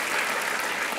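Steady, dense applause from a theatre audience, a continuous wash of many clapping hands filling the whole moment without a break.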